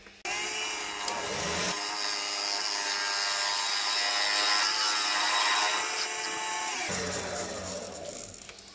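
A woodturning lathe tool takes very fine skims off a spinning wooden pot blank, a steady close rasping scrape that rises, holds for several seconds and then eases away.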